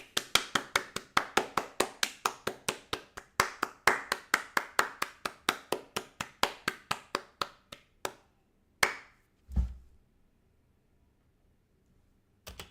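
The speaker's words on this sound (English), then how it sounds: "I know, round of applause." Quick rhythmic clapping from a couple of hands, a long run of sharp evenly spaced claps close to the mic that slows and stops, followed by a few louder thumps and then near silence.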